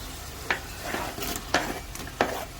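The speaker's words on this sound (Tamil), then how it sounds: "வெங்காயம், இஞ்சி பூண்டு போட்டு ஒரு 5 நிமிஷம் வதங்கினா போதும்." Onion, ginger, garlic and green chili sautéing in a pan, a low continuous sizzle broken by about four sharp scrapes and clinks of a spoon stirring against the metal, close and without speech.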